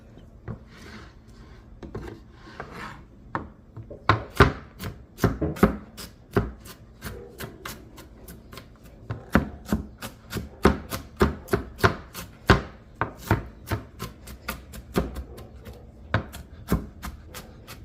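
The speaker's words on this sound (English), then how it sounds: "Do you feel like it's chopped up finely enough" Food for stroganoff and buffalo chicken chopped finely with a knife on a cutting board in a home kitchen: a long run of crisp, close knocks in quick, uneven rhythm, speeding up midway, with no talking.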